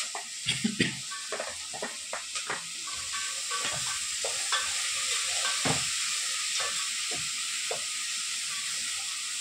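Green chili paste frying in a pan, a steady bright sizzle with scattered scraping stir strokes near the start and a continuous hiss carrying on alone.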